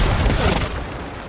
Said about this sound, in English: he shot me with a cannon